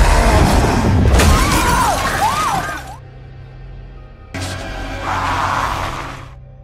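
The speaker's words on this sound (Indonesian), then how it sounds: "mendorong pendeta Esquibel hingga terlempar menabrak rak kaca" A glass shelf shatters as a priest is thrown into it in a scene from the horror film The Pope's Exorcist: a loud smash with scattering shards, then a lull, then another heavy burst of noise.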